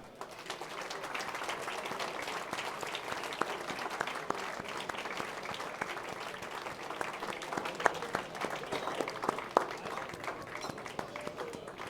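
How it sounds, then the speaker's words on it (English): Steady audience applause fills a football club's 2019 player awards ceremony, dense clapping sustained for the whole stretch with scattered louder claps and no voices rising above it. "Come on, keep the applause going right the way till Marianne gets to the stage."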